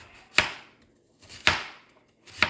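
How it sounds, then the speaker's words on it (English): Knife slicing through a peeled apple, three separate crisp cuts spaced about a second apart, close and clear with quiet between strokes. "We're going to cut our apple."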